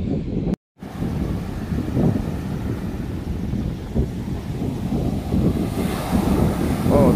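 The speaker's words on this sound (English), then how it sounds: "Oh, those waves look big." Ocean waves break and surge on a beach near Newcastle, a continuous rumbling wash heard up close and blended with steady wind buffeting the microphone, with no talking.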